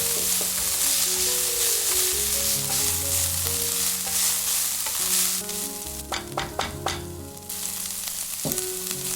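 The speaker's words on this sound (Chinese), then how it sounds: "加入黑木耳，继续翻炒" Black wood ear fungus being stir-fried with minced pork and sauce in a wok, steady sizzling under repeated scraping and tossing strokes of a spatula, with a few sharp clatters near the end.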